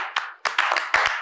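A few short, scattered bursts of hand clapping from a small studio audience during a comedy talk show, starting and stopping unevenly.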